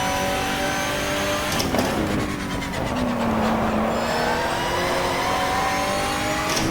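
A Lister Storm race car engine in the racing game GTR2 revs and holds a loud, whining tone, pitch dipping and climbing again as the car drives.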